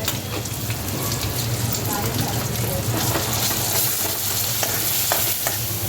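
Masala paste frying with tomato in a home kitchen, a steady soft sizzle with faint stirring scrapes throughout, no pauses.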